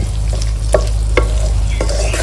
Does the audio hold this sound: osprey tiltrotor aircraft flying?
no